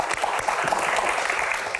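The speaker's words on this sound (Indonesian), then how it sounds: "Tepuk tangan untuk Pak Supratman." Applause for Pak Supratman at an Indonesian legal Q&A event, a steady dense patter of clapping hands from an audience, fairly quiet, with no voices over it.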